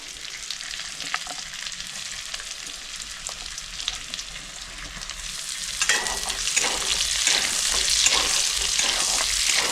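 Chopped garlic and chicken frying in a pan for chicken soup, a continuous hissing sizzle with occasional stirring scrapes that swells noticeably louder and brighter partway through as the garlic goes in.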